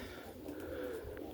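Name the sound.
roller pigeons cooing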